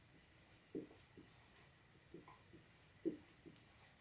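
Points being written on a board: faint, soft scratching strokes in short bursts with quiet taps between them, close by in a quiet room, no talking.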